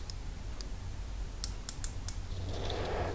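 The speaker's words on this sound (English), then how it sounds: "I use the little clutch here to tighten it up until the ratchet clicks" A micrometer's small ratchet clutch, used while measuring parts of a 1983 BMW R80ST engine, gives a few sharp close clicks in quick succession over a low steady hum.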